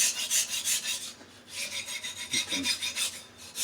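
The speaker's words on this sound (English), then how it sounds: "for a manual guided sharpener, it's pretty darn fast, and with the Atomo 140 on here" A knife rasps back and forth on an Atomo 140 diamond plate in a manual guided sharpener, with quick rhythmic strokes and a brief pause midway. A voice speaks a couple of words.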